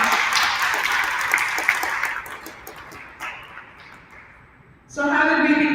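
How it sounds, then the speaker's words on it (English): Audience at a community centre event applauding volunteers, a dense patter of clapping that gradually thins and fades before a speaker's voice resumes at the end. "So a round of applause for all our volunteers."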